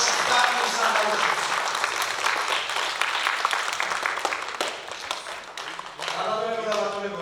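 An audience claps steadily at a theatre jubilee evening at the Rustaveli Theatre, dense sustained applause with a voice talking over it near the end.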